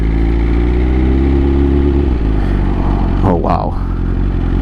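A 2020 BMW S1000RR liter-class sport bike with 205 horsepower, its engine loudly idling then revving with a rising whine, close by, while a rider speaks briefly over it.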